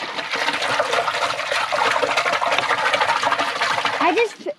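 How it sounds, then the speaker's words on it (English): A boat's live well aerator pumps water, producing a steady gurgling, splashing rush close by, with voices heard over it. "Go ahead and turn the live well on. Let's get it aerated."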